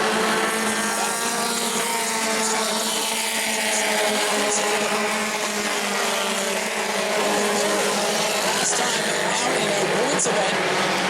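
Bomber-class stock cars race at New Smyrna, a loud, continuous roar of several engines rising and falling in pitch as they circle the short track, with a voice faintly present in the mix.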